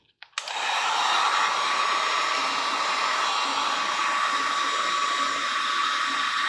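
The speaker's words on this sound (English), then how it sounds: "It takes a little while for this gun to heat up." A heat gun blows steadily on a workbench while warming up to heat a computer motherboard, a loud continuous airy roar with a faint whine that starts abruptly after a few quiet clicks and holds unbroken.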